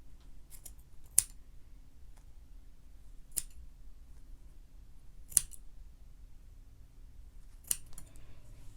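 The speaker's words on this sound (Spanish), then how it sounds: "Ahora vamos a cortar toda la parte de abajo." Scissors snip through yarn strands at the bottom of a knitted hanging decoration, four sharp isolated cuts spaced a couple of seconds apart over a quiet background.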